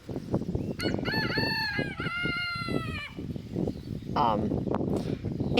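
A loud rooster crows nearby, a drawn-out cock-a-doodle-doo lasting a couple of seconds, over a busy background of clucking hens and a person speaking.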